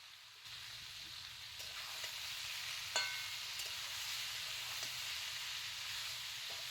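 Hog plum and turmeric fry in hot oil with a steady, close hissing sizzle, quiet and even throughout, broken by a few faint clicks and one brighter knock.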